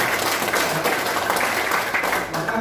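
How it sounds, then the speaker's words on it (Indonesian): Loud, sustained clapping from a seminar audience at a motivational training session, steady and near for the whole stretch. "Maka tepuk tangan Bapak Ibu semua."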